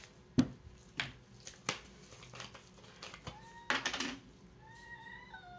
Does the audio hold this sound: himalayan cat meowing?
yes